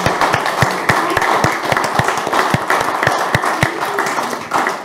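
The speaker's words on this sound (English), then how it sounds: "Can we give an applause?" Audience applause in a hall during a church prayer seminar session, steady dense clapping with sharp individual claps standing out, sustained for about five seconds and fading slightly at the end.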